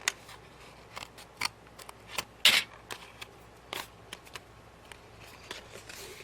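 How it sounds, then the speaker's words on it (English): Scissors or a blade cutting through wallpaper, a series of short, close, crisp snips and rustles spread irregularly, with one louder snip in the middle and no talking. "I do see one thing I need to cut right through there."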